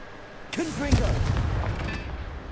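The Confringo blasting spell in Hogwarts Legacy goes off as a single sharp, booming burst with a whooshing fiery tail that fades into a low rumble.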